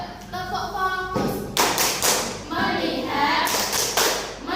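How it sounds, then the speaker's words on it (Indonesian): A classroom group claps a rhythmic focus pattern, with several sharp bursts of hand claps spaced between chanted voices and thumps, loud and close, mixed with speech throughout. "Yuk, tepuk fokus."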